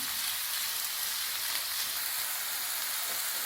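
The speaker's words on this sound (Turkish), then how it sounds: "Evet, kıymayla soğan şimdi birlikte kavruluyorlar." Ground meat and onion fry together in a pan, making a dense, continuous sizzle that stays even and close throughout with no voices.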